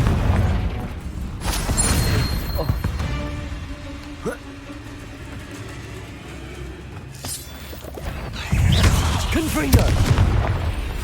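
Confringo blasting-spell explosions in Hogwarts Legacy, several booming blasts with rumbling tails spread across the stretch, heavier bursts near the start and end, mixed with game sound effects and a voice calling out.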